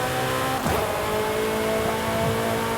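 A modified Ferrari engine in Forza Horizon revs loudly and steadily with a sustained drone, a sharp rise and swoop near the start, then holds a constant high-pitched tone with minor fluctuations throughout.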